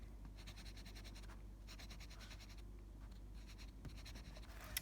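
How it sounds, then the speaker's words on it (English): Dry-erase marker being wiped off a classroom whiteboard during an algebra factoring lesson, a steady scratchy rubbing in repeated bursts, close and fairly quiet, with no talking. "Give me a second to erase."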